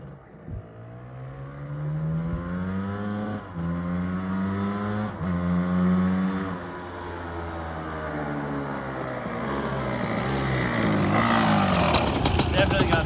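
A KTM 300 EXC two-stroke dirt bike engine running with an exhaust leak, a steady close buzzing idle that rises and falls slightly, then revs harder toward the end.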